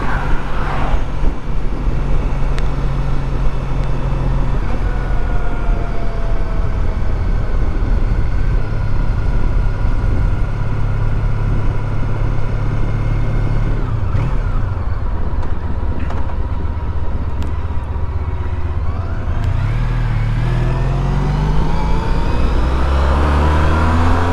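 A Honda ST1300 touring motorcycle cruising on an interstate: a loud, steady engine drone under heavy wind rush that revs up and climbs in pitch toward the end, with no talking.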